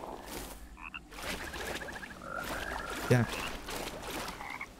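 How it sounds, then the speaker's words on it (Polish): Frogs croak in the Mortal Shell video game, a few short repeated croaking calls over a continuous ambient game backdrop with a brief voice in the clip. "Szkoda tylko, że żaby nadal zatruwają."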